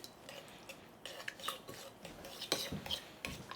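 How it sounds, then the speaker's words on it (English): Lime juice, salt and pepper are mixed in a bowl, with faint, uneven scraping and light clinking strokes close by in a quiet kitchen. "Half a lime juice. Salt. Pepper. And mix this up, okay?"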